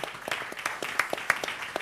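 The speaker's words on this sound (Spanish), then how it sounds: "Y un fuerte aplauso para ellos." An assembly audience in a conference room applauds the session speakers, with scattered individual claps standing out over a lighter patter of hands, fairly quiet and brief.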